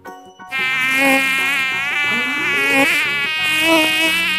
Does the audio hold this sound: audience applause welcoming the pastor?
no